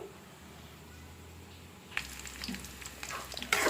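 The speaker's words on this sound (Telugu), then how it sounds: "ఆనియన్స్, కరివేపాకు, తిరగమాత గింజలు వేసాను" Hot oil in a home kitchen crackles quietly, then breaks into a louder, busier sizzle as onions, curry leaves and tempering seeds drop in, spattering unevenly up close.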